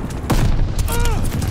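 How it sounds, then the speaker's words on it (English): A glide bomb strike in the multiplayer shooter Call of Duty Vanguard, heard as a loud, close, rumbling barrage of blasts and crackling gunfire that runs through the whole short clip. "Friendly sending a glide bomb."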